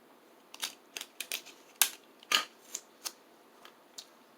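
Tape pulled from a roll and cut while making pigmented lip gloss, a series of crisp sharp clicks and short tearing rasps, irregularly spaced, close and fairly quiet.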